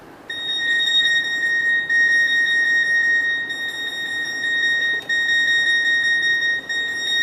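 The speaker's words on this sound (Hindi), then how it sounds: "देखो रिमोट बीप करना स्टार्ट हो गया।" A Sony Bravia TV remote's find-remote feature sounds a steady, piercing electronic tone with a slight pulsing, continuous and loud against faint room noise, with no voices.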